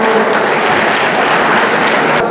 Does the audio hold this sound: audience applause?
yes